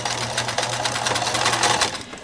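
A sewing machine runs slowly and steadily, stitching over thick hair-band elastic on a fabric face mask, with a continuous close mechanical whir and a low hum and no talking.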